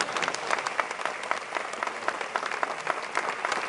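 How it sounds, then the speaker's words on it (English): Crowd applause at a Presidential Medal of Freedom ceremony, dense and continuous clapping from a large audience, fairly loud and sustained throughout. "You can all applaud."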